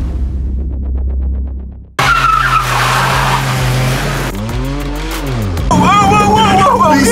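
A buggy car skids with loud, sustained tire squeals and revving engine, shifting pitch as it slides, close and intense, with a voice speaking over it.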